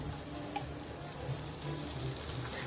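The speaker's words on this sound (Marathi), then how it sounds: "आपल्याला पाच सहा मिनटं छान बारीक गॅसवर छान असं आपल्याला परतून घ्यायचं आहे" Fresh turmeric halwa sautés in ghee over a low gas flame, giving a soft, continuous sizzle and faint crackle at low volume with no voices.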